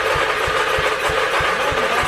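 A small go-kart/mower engine runs rough and loud right up close, throbbing with a steady low chug about three pulses a second beneath broad mechanical roar.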